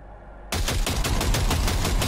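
Gunfire at targets on a shooting range in Cyberpunk 2077: sudden silence broken by a loud, close, rapid string of shots that continues without pause to the end.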